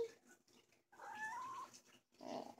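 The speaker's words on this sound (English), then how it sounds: "Did you guys hear that? She meowed." A cat meows close by in a few short, quiet calls, the middle one drawn out and rising, with pauses between them.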